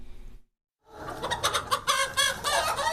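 Hens cluck and squawk inside a hen house on a family poultry farm, a busy close chorus of overlapping calls that starts after a brief moment of silence and continues without talk.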